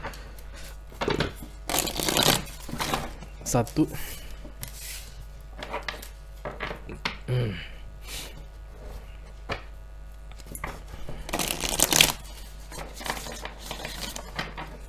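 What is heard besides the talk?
shuffling tarot cards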